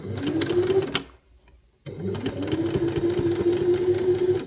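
A sewing machine running a line of stitching along a fabric hem on a reusable coffee bag buzzes steadily, pauses briefly for about a second, then resumes its even mechanical hum.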